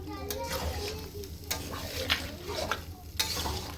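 Chili chicken stirred in a pan, a spoon scraping and knocking at irregular intervals over a steady sizzle, close by, with a voice faintly audible in the background.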